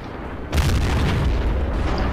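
A loud, sustained explosion from the Men of War video game as a Sherman Jumbo tank's turret is destroyed, a sudden booming blast that hits after a half-second lull and rumbles on heavily.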